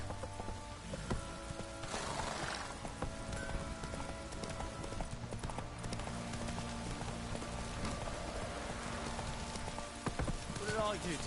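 Geralt's horse Roach trots in The Witcher 3, steady hoof clip-clops over ambient game sound, with voices speaking briefly over the steps.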